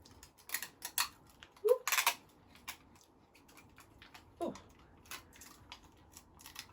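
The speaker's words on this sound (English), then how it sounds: "we'll add a little bit more sticky tape" Sticky tape being pulled off the roll and pressed onto a paper plate, a few sharp ripping bursts and crinkles spread among soft handling noises, close and fairly quiet.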